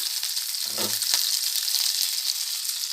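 Fish 65 fries in a small amount of oil, giving a steady, close, bright sizzle throughout, with a brief low clatter of the pan or lid near the start.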